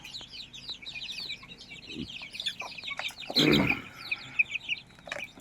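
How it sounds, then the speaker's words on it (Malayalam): A hen and her chicks cluck and call close by, with a cluster of louder clucks midway over a steady background of small chirps. "ഇത് രണ്ട് കോഴിക്കളെ കുഞ്ഞുങ്ങളാണ്"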